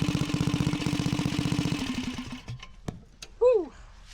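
A homebuilt two-wheel-drive minibike engine idles with a steady throbbing pulse for a couple of seconds, then cuts out, followed by a few knocks and a brief rising whine near the end.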